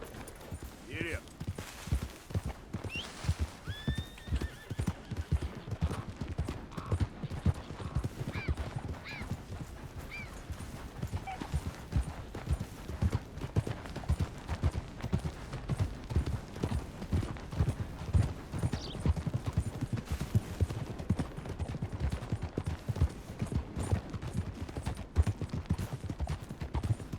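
Steady hoofbeats of a horse galloping in a hunting adventure video game, rhythmic and continuous throughout, with brief whinnies and a voice talking over it at times.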